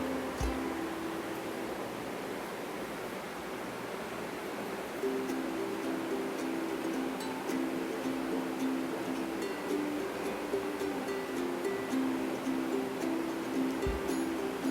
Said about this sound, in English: Add water into a large vessel and then add few drops of oil and a pinch of salt.